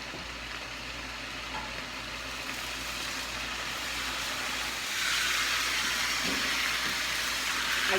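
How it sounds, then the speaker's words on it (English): Pork tenderloin in a hot saute pan with sweet peppers, giving a continuous sizzling hiss that grows louder and brighter about halfway through. "And now I can go ahead and add my pork to my saute pan"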